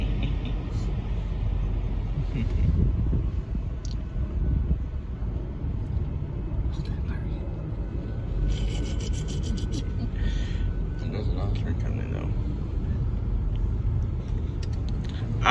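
A northbound Union Pacific locomotive power move rolls past at Dittmar Road in Austin, Texas, a continuous low rumble and rubbing wheel noise with faint metallic squeals, steady and fairly loud throughout.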